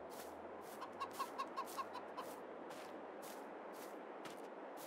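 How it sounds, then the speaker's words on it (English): Chickens in a chicken coop holding 500 birds on the Vlashich, Bosnia map of Farming Simulator 22, a short run of soft clucks over a steady ambient hiss, faint and without talk. "And then we have our chicken coop. So 500 chickens in total here."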